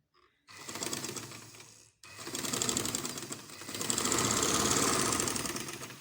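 A sewing machine runs in two steady bursts of rapid, even stitching on a baby frock, with a brief pause between them and no talking.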